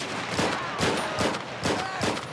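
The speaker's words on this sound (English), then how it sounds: "Open fire, open fire." Rapid bursts of gunfire in a GTA 5 shootout around an armored security car, with four or five loud volleys in quick succession and dense, close, echoing shots.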